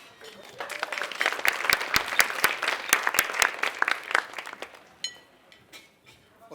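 Applause from an audience at a community service awards ceremony, sharp individual claps building into a steady patter, then thinning out to a few scattered claps near the end.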